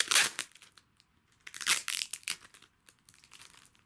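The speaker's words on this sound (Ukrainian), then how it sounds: "Тепер беремо скотч" Bursts of crackly, tearing noise like tape being ripped off a roll, two longer pulls separated by a short pause, close up.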